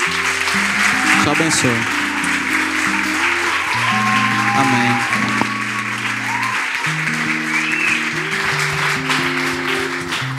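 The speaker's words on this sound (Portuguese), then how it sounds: "Uma salva de palmas aí." A church congregation applauds at length, a dense, loud wash of clapping that continues while a preacher speaks over it.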